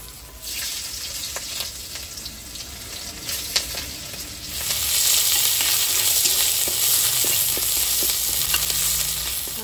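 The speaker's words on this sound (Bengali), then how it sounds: "শুকনো লঙ্কা কাঁচা লঙ্কা দুটোই ভেজে নেব।" Dried red chilies and green chilies frying in hot oil, a loud continuous sizzle that swells louder midway, with scattered crackles and pops, close up and without talk.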